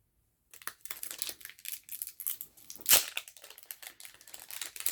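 A Duel Masters DM1 Mighty Shooter booster pack is torn open, its foil wrapper crinkling and crackling in a close, irregular series of rustles with one sharper tear.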